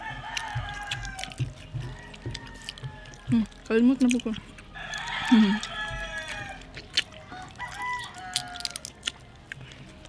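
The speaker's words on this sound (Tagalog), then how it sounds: "Nagtugtugaok ng mga manok," Roosters crowing outdoors at night, several drawn-out calls near and far, with clucking fowl and a person speaking briefly over them.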